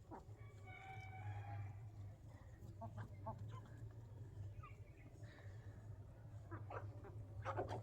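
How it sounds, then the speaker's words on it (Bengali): Chickens of several breeds, including native and poultry birds, cluck and call in a yard, faint scattered clucks and a rooster-like crow over a low steady hum. "দেখো কত ধরনের মুরগি।"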